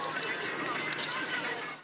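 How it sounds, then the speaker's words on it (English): A steady, dense hiss of spray paint on a wall runs almost unbroken for a couple of seconds, close by, with faint background voices, outdoors in Montreal. "The sound of brush strokes and spray paint is something you'll often hear"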